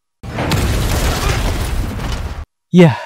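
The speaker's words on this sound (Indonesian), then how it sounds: "ledakan bom itu" A loud blast with a rumbling, crackling roar that cuts off abruptly, followed by a short voice.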